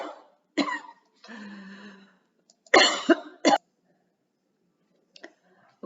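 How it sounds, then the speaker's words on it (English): A person has a coughing fit: several sharp, harsh coughs come in separate bursts with short quiet gaps between them, close and alone, with a few faint throat noises after. "as I was saying before I had that coughing fit"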